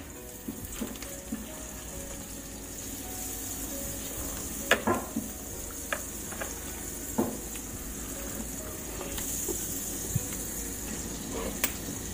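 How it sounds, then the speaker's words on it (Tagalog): Butter melting in a pan gives a continuous bright sizzle and frying crackle, with scattered pops and light clinks throughout, close and steady with no talking. "So, ilagay natin ang butter. Tunawin muna natin siya sa pan."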